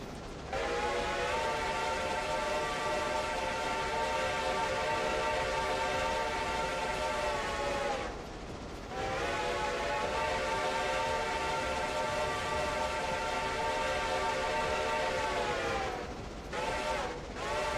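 A train in the modded Railroader video game runs at speed with a long sustained whistle blast, a short break, then another long blast and two quick toots over steady rolling rumble.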